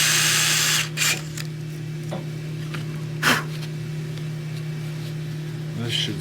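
A drill bores into a soft, unhardened stainless steel set screw in a shop, giving a steady whining grind with a couple of brief louder bursts, close and continuous under a background hum.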